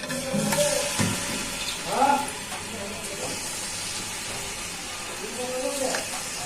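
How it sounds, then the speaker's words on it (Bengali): Pieces of rohu fish sizzle in hot oil in a wok, a steady frying hiss with a few sharper crackles, heard under a person talking. "তেলটা গরম হয়ে গেছে, মাছগুলো দিয়ে দিচ্ছি।"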